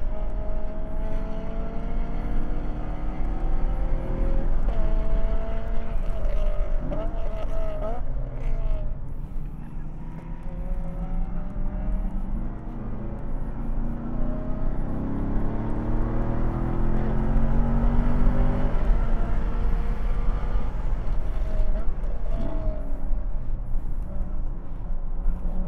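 BMW E90 M3 race car lapping Buttonwillow Raceway, its engine droning loudly and steadily throughout with rising and falling pitch through gear changes, heard from inside the car alongside an S2000 and a Corvette on track.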